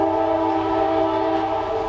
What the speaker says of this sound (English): Hey, train's here.